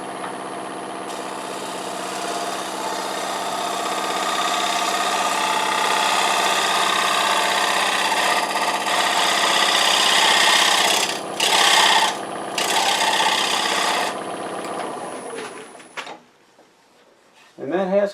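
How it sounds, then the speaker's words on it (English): Wood lathe turning a bowl, the gouge floated over the rim peeling off very fine shavings, giving a sustained close rubbing, rasping drone with a few short interruptions before it winds down near the end. "Just floating it over the edge. As you can see, the very fine shavings I'm"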